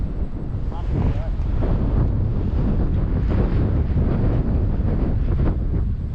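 Loud, gusting wind on a fishing outing buffets the microphone in a continuous heavy roar, with a voice faintly audible beneath it.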